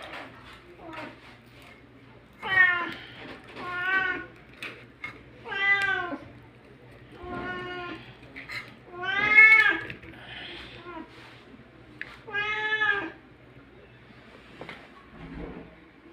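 A hungry cat meows repeatedly at mealtime while being fed fish, about half a dozen distinct, fairly loud drawn-out meows spaced a second or two apart over a quiet background.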